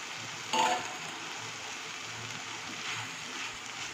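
Potatoes fried with salt and turmeric sizzle softly in a pan on low heat, a faint continuous crackle with one brief louder clink of utensil near the start.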